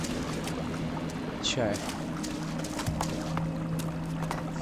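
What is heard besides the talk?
flowing water in video game ELEX II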